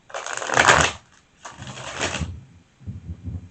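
Tarot cards riffled and shuffled in quick bursts, two long crisp flurries followed by a shorter, softer shuffle, close up.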